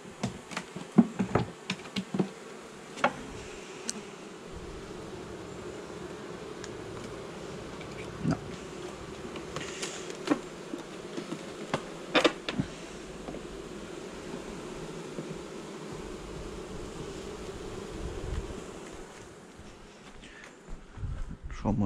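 A honeybee colony hums at an open hive during a honey harvest, a steady, dense buzz with individual bees zipping close past, plus occasional knocks and clicks of frames being handled.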